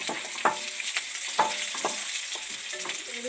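Curry leaves hit softened onions in a hot pan for Kerala-style kappa biryani, giving a continuous sizzle and crackle while a spoon scrapes and stirs in several distinct strokes; no talking.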